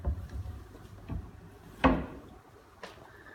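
A drawer-style dishwasher drawer is pulled open, giving one sharp clunk with a short sliding rush, amid faint thumps and quiet room noise.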